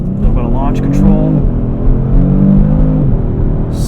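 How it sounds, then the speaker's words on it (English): A 2018 Kia Stinger GT RWD engine roars and revs hard as it launches with launch control, rising through the gears, loud and close, with a voice talking briefly over it. "A little bit of launch control."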